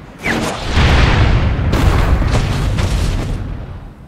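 Heavy booming explosions from warships opening fire in the video game Asura's Wrath, a loud sustained barrage of blasts and rumbling impacts with several sharp bursts overlapping.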